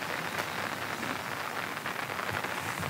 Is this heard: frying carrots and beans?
no